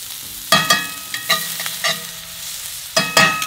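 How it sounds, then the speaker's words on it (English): Onions hit hot butter in a pan and sizzle, with a few sharp crackling bursts as they are stirred and tossed, a steady hiss between them, close and fairly loud. "In with the onions. Still got that sizzle."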